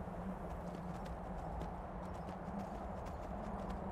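A horse gallops in the video game Skyrim, a steady stream of quick hoof clip-clops over a constant low background, fairly faint.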